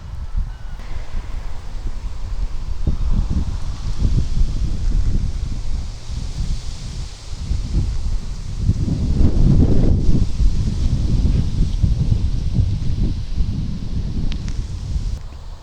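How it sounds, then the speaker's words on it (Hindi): Autumn wind gusting through a cemetery in Brampton, Ontario, with dry leaves rustling and heavy low buffeting on the microphone, swelling and easing continuously with no talk. "हवा चल रही है"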